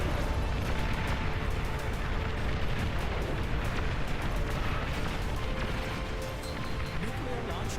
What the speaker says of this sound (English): More things exploding.